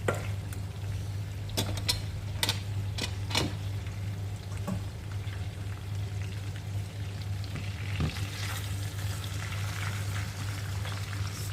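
Grilled inihaw chicken sizzles steadily nearby while it is basted, a constant frying hiss broken by a few sharp clicks and taps of utensils early on.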